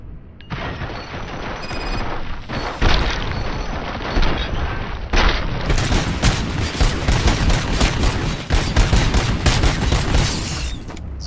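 Dense gunfire in RoboCop: Rogue City, sustained volleys of overlapping shots and heavy booms crowding together for the whole stretch, loud and close with no pauses.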